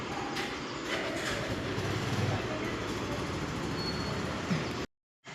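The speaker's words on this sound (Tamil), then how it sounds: "இப்போ போயிட்டுருக்கு பார்த்தீங்களா, செம்ம ஸ்பீடாக போயிடுச்சு இந்த ட்ரெயின்" Train travelling at high speed, a steady loud rumble and rushing roar filling the space continuously before cutting out abruptly near the end.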